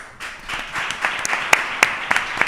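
Audience applause welcoming the speakers at a talk on Gelves and the Guadalquivir river, a close crowd of clapping with several sharp, loud individual claps standing out.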